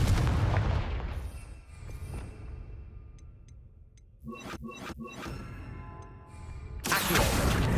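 A Confringo explosive spell in Hogwarts Legacy, with a booming blast at the start and a rumbling tail, then a crackling cluster of sharp bursts midway and another loud roar at the end.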